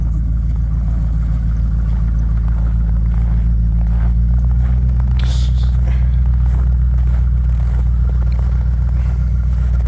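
A Bombardier tracked vehicle, moving for the first time in six months, rolls out of a shop on a short test run, its engine a loud, steady low rumble with clattering and rattling running through the whole stretch.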